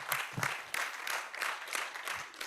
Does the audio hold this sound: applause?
yes